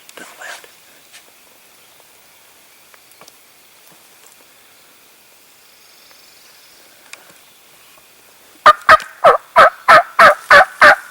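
A wild turkey gobbles while strutting on an opening-day spring hunt. After quiet whispering in the woods, a loud, close burst of rapid, rhythmic gobbling pulses arrives near the end.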